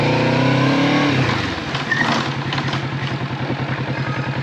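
Kawasaki Z650 RS motorcycle engine revving up at close range as the rider picks up speed, a loud steady rumble that settles into a rapid rhythmic pulsing.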